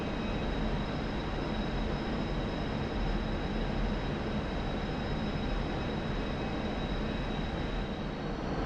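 A MiG-29 Fulcrum jet in the DCS flight simulator, flying over Iraq with a steady, dense engine roar and rushing air that holds without a break.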